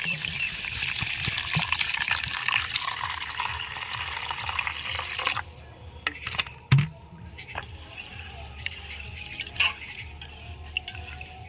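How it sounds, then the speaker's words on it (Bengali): Water poured over soaking lentils in a kitchen, a running gush and splash for about five seconds, then scattered drips and small knocks, close by. "এটাকে আমি জল দিয়ে ভিজিয়ে নিচ্ছি।"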